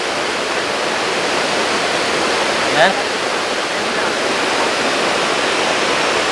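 Waterfall at Hidden Falls in Luisiana, Laguna, water cascading over rocks in a loud, steady, broadband rush, with a short spoken word briefly over it.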